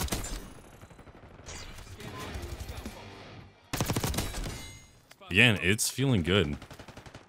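Video game gunfire in the Black Ops 6 beta: loud bursts of automatic shots in clusters, with a gap as the gun runs dry, under a player's brief talking.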